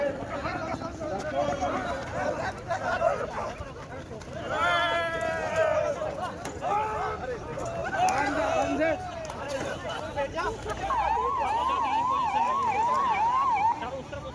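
An ambulance siren amid a police cordon at a party gathering wails through a noisy street scene, its rising and falling tone heard in several bursts and swelling into a steady wail near the end, with people talking throughout.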